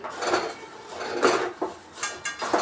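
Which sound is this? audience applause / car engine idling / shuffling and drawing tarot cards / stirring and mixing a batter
stirring and mixing a batter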